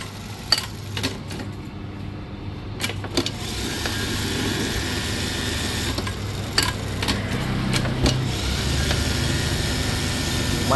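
A used Juki LBH 780 buttonhole sewing machine for shirts runs with a steady low mechanical hum, with several sharp clicks and taps over it throughout.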